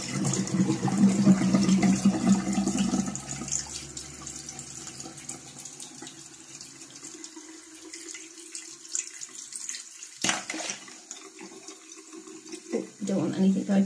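Water runs and gurgles in a household sink, loud and splashy at first and then thinning to a softer trickle, with a sharp clunk partway through.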